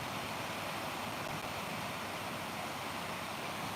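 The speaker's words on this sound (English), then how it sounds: "A lot of water coming down there today" Broad, steady rushing roar of a large volume of water coming down, continuous and moderately distant with no break across the stretch.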